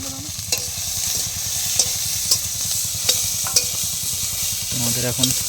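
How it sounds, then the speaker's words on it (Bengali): Onion, ginger and garlic fry in a pan at an outdoor picnic by the Sundarbans forest, with a steady loud sizzle, repeated sharp clinks of a spoon against the pan, and a rhythmic low bubbling underneath. "পেঁয়াজ রসুনগুলো একটুখানি আগে ভাজা করে নিচ্ছে"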